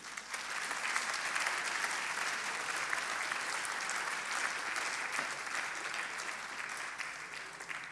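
A ceremony audience applauds an award winner, many hands clapping in a steady, even roar that fills the room without a break for about eight seconds.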